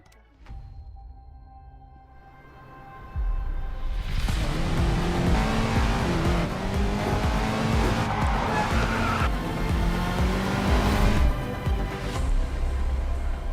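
Koenigsegg Agera RS racing car in a Racing Master game cinematic: a quiet opening gives way to a loud, sustained engine roar with rising and falling revs and tire squeal, close and continuous throughout.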